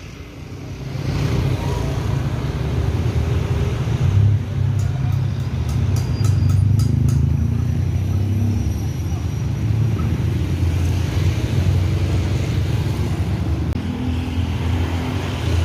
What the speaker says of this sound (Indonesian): Ini tronton yang ditunggangi oleh Bang David.